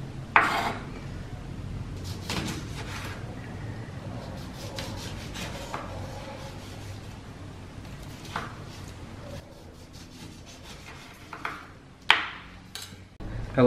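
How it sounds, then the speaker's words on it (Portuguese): A knife slices a lemon into rounds on a board. Soft scraping cuts are punctuated by a few sharper taps and knocks, and a voice talks quietly throughout. "agora eu vou cortar aqui o limão para fazer a decoração do salmão"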